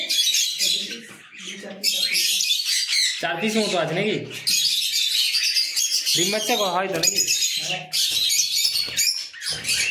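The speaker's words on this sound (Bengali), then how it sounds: "আর এটা কি পাখি আছে? লাভবার্ড।" Lovebirds in a breeding loft chirp and squawk in a dense, shrill chorus close by, with a voice speaking over them in short bursts.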